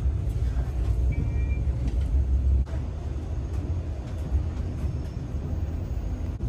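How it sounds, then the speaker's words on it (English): Interior of a Siemens Venture passenger trainset running between Casselman and Ottawa, a steady low rumble and hum from the carriage with smooth continuous rolling noise, no talk, a brief dip partway through. "This train is so smooth, I didn't even feel it start to move till I looked out the window"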